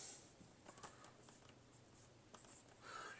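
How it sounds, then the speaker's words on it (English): Pencil or marker scratching across paper while a ductwork template is drawn out for a Toyota Supra radiator installation, with soft intermittent strokes and brief pauses, close and faint. "And I will draw that out on this paper"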